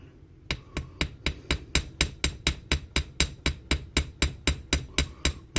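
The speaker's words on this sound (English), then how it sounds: "The force of the hammer will drive it down." Steady hammer blows on coiled wire laid over an anvil, about two strikes per second, loud and close, in an even rhythm with no talking.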